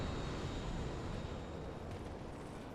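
Enemies in the Dark Souls II video game explode in a chain reaction, a dense, continuous roaring blast that fills the whole short stretch at steady loudness with no talk.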